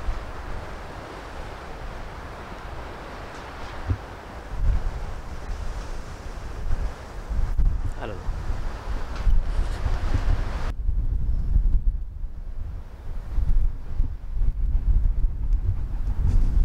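Strong wind buffets the microphone with low rumbling gusts, continuous and rough, with a lighter whooshing background throughout.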